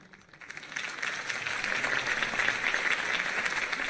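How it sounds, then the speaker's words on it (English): A crowd applauding steadily in the video game Batman: The Telltale Series, the clapping swelling in over the first second and then holding as a dense, even wash of applause. "could have heard that applause"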